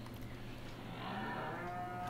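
Cattle in the Farming Simulator 2017 video game give a drawn-out moo over a low, steady background, the call swelling partway through and holding to the end.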